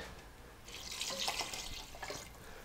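Liquid pours steadily into a soup pot for a chicken and dill dumpling soup, a continuous moderately loud splashing rush that swells in the middle and carries on without any talk.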